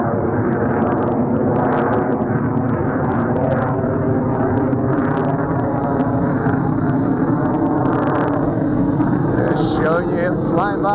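A JXD 510G Predator FPV drone with altitude hold flies nearby, its motors giving a loud, steady buzzing whine with layered harmonics that rises and shifts slightly in pitch as it passes.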